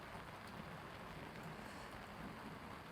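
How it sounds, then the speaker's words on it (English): Steady rain falls during a fishing tournament on Big Stone Lake, a soft continuous hiss of drops at low level, with no voices. "this rain just kind of caught us by surprise"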